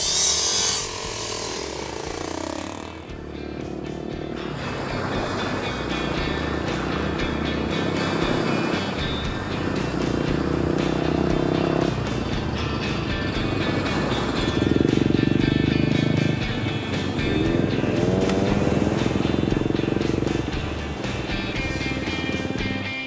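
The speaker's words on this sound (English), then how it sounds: "These motorbikes are perfect for a short little beach ride." Motorbikes setting off on a beach ride in El Nido, engines buzzing and rising in waves as they pull away, fairly close, with intermittent mechanical clatter.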